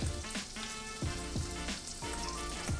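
Butter sizzling and frying French toast in a pan, a steady crackling hiss with sharp spatters and sputters recurring through it, close and fairly loud, no voices.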